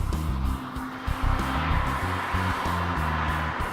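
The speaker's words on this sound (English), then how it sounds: "When the engine's screaming bloody murder, you expect to look down and be going supersonic" Mazda RX-8 rotary engine revving hard while driving, a loud sustained high-pitched scream that rises and steps through gear changes, close and continuous with no talk.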